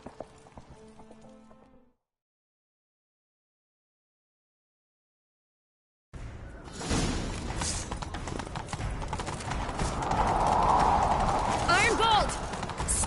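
Horse hooves clip-clop at a gallop in The Witcher 3, a rapid drumming rhythm that starts after a silent pause and builds louder with rushing movement, following a few words of speech at the start.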